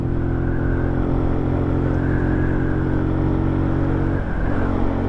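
A small Benelli TNT motorcycle is ridden along at a steady pace, its engine holding a constant droning hum up close from the rider's position, with a slight shift in pitch near the end.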